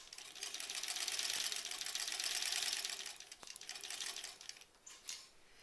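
A sewing machine stitches an appliqué petal onto fabric, a fast, even mechanical whir that holds steady for a few seconds, then slows and breaks into shorter bursts with a sharp click midway, fairly quiet and close.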